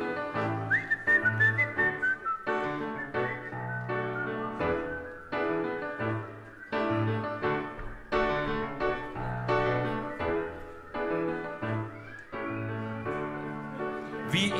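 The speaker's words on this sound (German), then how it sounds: "Pfeifen Sie eine Melodie Ihrer Wahl." A concert audience whistles a melody along with a live band at a Steinway memorial concert, the whistling blending with piano and steady band music throughout.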